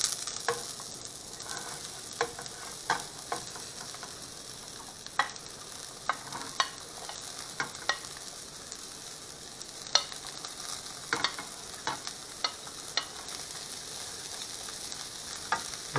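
A filling of cabbage and onion for egg rolls fries in a hot pan, making a soft, continuous sizzle broken by regular sharp taps and scrapes of stirring, with no speech.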